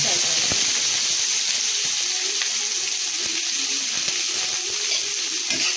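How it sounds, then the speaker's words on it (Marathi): Onions fry in hot oil with mustard seeds, garlic and curry leaves for a spicy shev bhaji, giving a steady close sizzle with occasional stirring scrapes and clicks throughout. "आता कांदा चांगला आपण फ्राय करून घेऊ तेलामध्ये."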